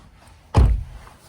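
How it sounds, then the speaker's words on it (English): Rental car door shutting once with a solid, close thud, set up for sleeping in while car camping at the Grand Canyon; quiet before and after. "close the door"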